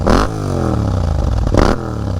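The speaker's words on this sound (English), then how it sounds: "Got this Akrapovic carbon full racing exhaust." Yamaha MT-07 motorcycle with an Akrapovic carbon full racing exhaust, loud and close, two quick revs rising and falling at the start and near the end over a rumbling engine tone.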